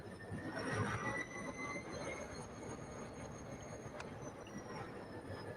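A model railroad train pulls boxcars along a layout, steady rolling rumble with faint clicking and a thin, sustained wheel squeal running throughout, no voices.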